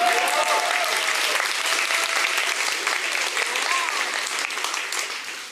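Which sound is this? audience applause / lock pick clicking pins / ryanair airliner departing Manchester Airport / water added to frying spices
audience applause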